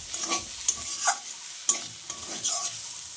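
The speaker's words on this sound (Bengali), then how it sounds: "দেখো কি সুন্দর শাকটা ভাজা হলো, কচি কচি শাক।" Close, steady sizzling of tender water spinach (kalmi greens) frying in a pan with repeated scraping stirs and light clinks of a utensil against metal.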